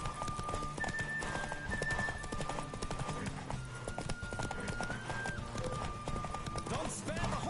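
Horse galloping in The Witcher 3, a fast continuous clip-clop with neighs and snorts, under game music and a voice speaking over the ride.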